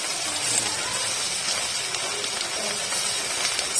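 Garlic and ginger fry in a pan with a steady, close, loud hiss and sizzle of hot oil that stays constant throughout.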